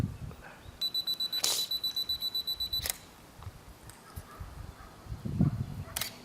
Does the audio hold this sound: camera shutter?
yes